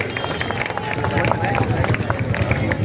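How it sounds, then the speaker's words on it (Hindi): A crowd at an open-air public political meeting in a residential colony claps for an honored guest, with dense, steady applause and cheering voices filling the space at close range. "उनके लिए एक बार ताली बजा दीजिए"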